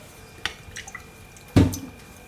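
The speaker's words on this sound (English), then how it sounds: "So first I just want to add some dark soya sauce to my water." Dark soy sauce is poured into water while making a one-pan stew chicken and broccoli dinner. Two brief, close drips and splashes are heard, the second louder, against quiet kitchen background.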